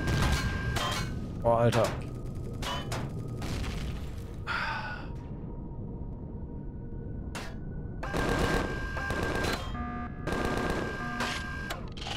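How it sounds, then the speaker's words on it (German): Enemy gunfire hits the player from the side in the space survival game Empyrion: repeated bursts of rapid shots, loud and close, with someone speaking and sighing between them. "Ihr werdet noch von der Seite beschossen hier"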